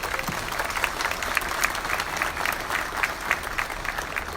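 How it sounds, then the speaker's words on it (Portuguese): Steady applause from an audience at a council meeting on adult education, a dense even clapping that stays at one level throughout. "a cineasta Thaís Scabi, uma salva de palmas."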